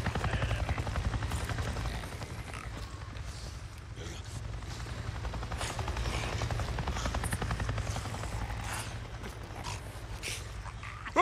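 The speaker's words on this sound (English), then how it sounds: "A Nero chopper! It just buzzed right over me." A helicopter in the Days Gone video game passes close overhead, its rotor thumping in a loud, continuous low pulse for the whole stretch, with a dog whimpering and panting over it.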